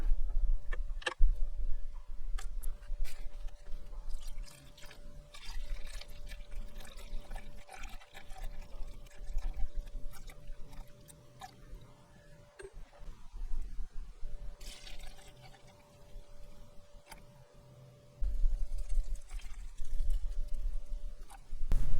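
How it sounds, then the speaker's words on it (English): Antifreeze poured through a coffee filter set in a funnel into the radiator of a John Deere 3033R tractor, a faint, uneven trickle with soft ticks and drips over a low hum, no talking. "Filling that radiator up is taking longer than I wanted, where I've got to filter that antifreeze."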